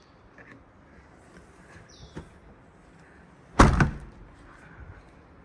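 A 2021 Honda HR-V 1.8 E manual tailgate slams shut with one loud, close thud, with a short rattling decay after it, against a quiet outdoor background with faint bird calls.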